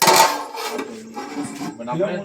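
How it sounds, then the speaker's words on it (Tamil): A metal lid clanks off a pot of village-style biryani with a quick clatter. Softer scraping and rubbing follow while a voice speaks alongside. "சரி மூடி எடுத்துக்கலாம்."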